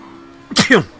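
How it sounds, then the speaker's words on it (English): A single loud sneeze, a sharp two-part burst rising out of a quiet background hum, close to the listener. "Ooh, big sneeze."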